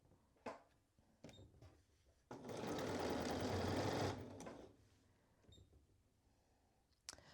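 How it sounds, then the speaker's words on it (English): A sewing machine stitches a seam on a Cashmerette Wayland dress in one steady run of about two seconds, loud and close, framed by quiet handling clicks and fabric shuffling before and after. "I'm going to sew all the way down until I get to that dot"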